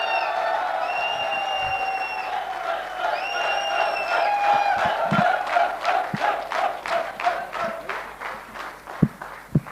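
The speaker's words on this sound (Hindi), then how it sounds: "तालियां एक बार दमदार।" Crowd at a network marketing seminar in India starts with voices and cheering, then breaks into rhythmic, strong clapping in unison that builds and speeds up, with a few thumps near the end.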